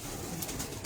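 Pigeons coo softly at a rooftop loft, a faint, low murmur of calls with no talking over them.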